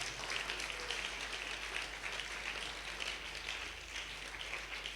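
A church congregation breaks into sustained applause, a steady, dense wash of clapping that holds evenly from start to finish with no voices rising above it.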